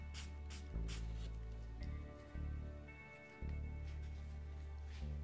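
A spray bottle spritzes water onto an acrylic painting on canvas in several short puffs, a soft hissing mist with gaps between squeezes, close and quiet over a low hum.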